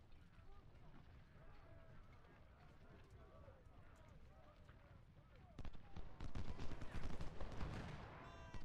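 Musket volleys crackle across a Civil War battlefield in Ultimate General: Civil War, faint scattered shots at first, then a louder, denser burst of rolling fire toward the end, with a voice talking throughout.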